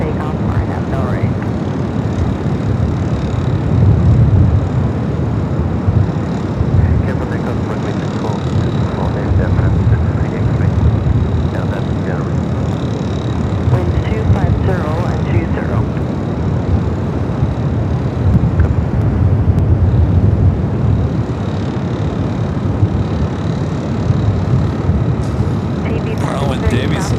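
A heavy airliner taking off at LAX in gusty wind, its engine roar steady and fairly distant under continuous wind noise, with a radio voice heard over it.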